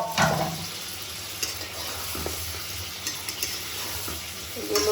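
Meat with whole spices such as cloves, cardamom, cinnamon and cumin sizzles in a pan, a continuous close frying hiss with a few sharper spikes of stirring and utensil contact.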